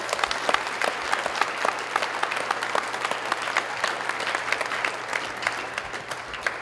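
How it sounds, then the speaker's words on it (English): An audience gives a round of applause for an air cadets band, dense sharp clapping that holds steady and close for several seconds with no talk over it. "So let's give them another round of applause."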